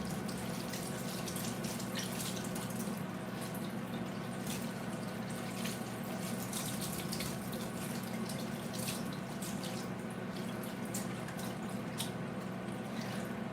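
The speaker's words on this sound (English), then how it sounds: "Gonna rinse out this bag." Tap water runs steadily into a sink while a nut milk bag is rinsed under it, a continuous close splashing flow with no talking.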